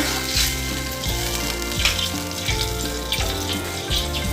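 Water pours steadily in a continuous splashing trickle, close and fairly quiet, with no voices.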